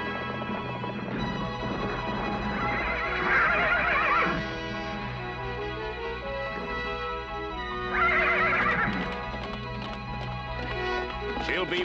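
A horse in an animated episode gives two bright whinnies a few seconds apart, with hoofbeats clip-clopping over a steady layer of background music.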